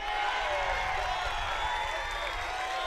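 Crowd noise from a college tennis match at a national campus championship in Ann Arbor, with a Michigan cheering section, forms a steady dense wash of cheering and clapping throughout.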